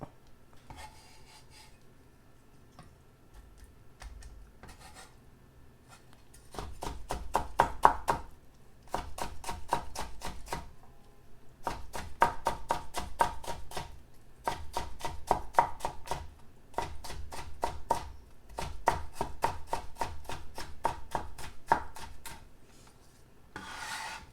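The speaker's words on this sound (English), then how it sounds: "cutting this cucumber is even more enjoyable than eating those cucumbers" A knife cutting a cucumber for tzatziki on a wooden board, with rapid runs of crisp chopping strokes in repeated bursts and short pauses between them, close and clear.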